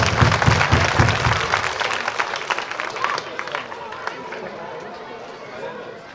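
Audience applause at a school annual function, loud, dense clapping at first that thins and fades over several seconds, with crowd chatter mixed in.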